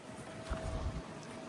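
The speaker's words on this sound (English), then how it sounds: "it's a little windy out here" Wind blowing across an open lake beach campsite, a steady broadband rush with low buffeting gusts on the microphone, strongest around the middle of the short stretch, no talk.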